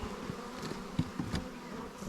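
Honey bees buzzing close at an open hive on a farm, a dense continuous hum with a few louder individual bees darting near, no voices.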